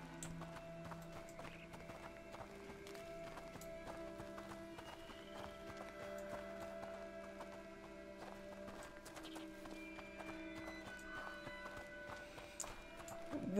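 Horse hooves clip-clopping steadily in the medieval village of the video game A Plague Tale: Innocence, soft and continuous under the game's low background hum.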